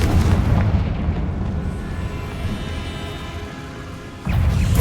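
In the Hogwarts Legacy video game, the Confringo spell goes off as a heavy, booming blast that rumbles and fades, then a second burst hits near the end.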